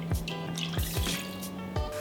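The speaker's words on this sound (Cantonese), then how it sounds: "喺原鍋中加入雞湯同水，" Chicken stock and water poured into a cooking pot, a soft splashing pour with several drips and light knocks close by.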